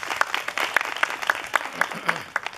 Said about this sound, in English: big clap for Yaya, please